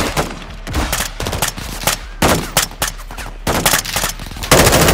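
Cover fire in Call of Duty Modern Warfare II, loud sustained machine-gun bursts in rapid runs with brief pauses, dense and close throughout.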